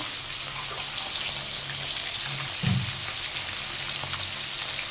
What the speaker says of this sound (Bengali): সেই তেল দিয়ে কই মাছটা ভাজা হচ্ছে।